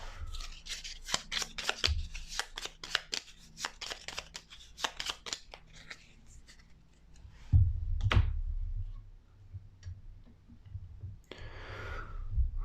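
Cards for the Gloomhaven: Jaws of the Lion board game are shuffled at a table, a quick run of crisp riffling clicks and snaps followed by softer handling, thumps and rustles, close and with no talk.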